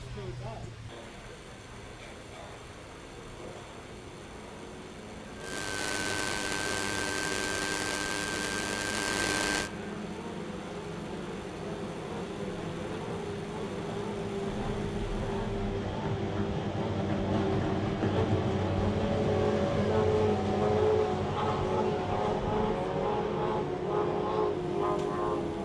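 Outboard racing boats of 25 horsepower head off on a river at the Bundaberg Rum City Classic power boat races, a distant droning buzz that swells gradually under continuous commentary.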